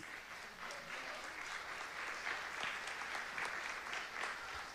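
An audience at a church Pathfinder and Adventurer Day applauds the Bible Bowl teams, a sustained, even crackle of many hands clapping that fills the room.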